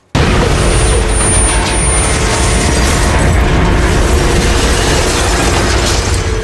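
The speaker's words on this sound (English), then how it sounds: "That is going well, until there is the explosion on board." A loud, sustained roaring blast that fills the whole clip after a sudden start, an on-board explosion in the video game Metro Last Light, with rumbling debris, no voices.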